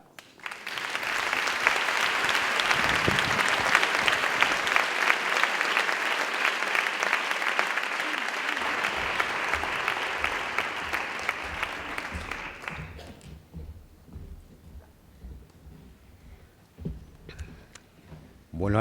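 Sustained audience applause at a film awards gala, a dense crowd clapping loudly for about twelve seconds before tapering into scattered claps and voices.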